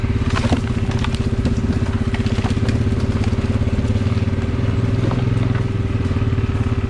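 A motorcycle or four-wheel-drive machine rides down a river trail, its engine loud, close and continuous with a steady throbbing rumble and crunching terrain noise throughout.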